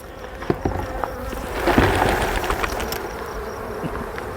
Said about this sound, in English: bees are gonna fly when I do this.